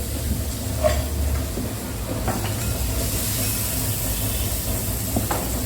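Fennel seeds and chopped onions frying in a pan for a cashew stir-fry, giving a steady close hiss and sizzle with occasional small pops, no talking.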